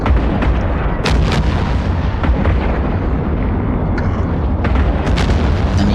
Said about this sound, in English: And he's using missiles.